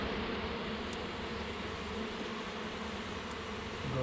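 Dense, continuous buzzing of many bees around a hive, a steady droning hum that fills the space evenly without pauses or voices.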